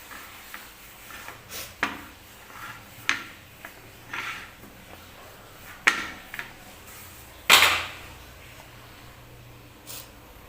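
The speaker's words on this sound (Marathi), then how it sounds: "एक गोळा घेतला, थोडंसं सुकं पीठ घेतलं आणि मी याची चपाती लाटून घेते." Toor dal chapati dough dusted with dry flour is rolled out on a board, giving a series of soft wooden knocks and taps at irregular intervals, quiet and close.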